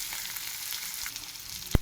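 Egg bhujia (scrambled egg) sizzles quietly in a pan with a soft, steady crackle, ending with a sudden sharp knock of a utensil against it.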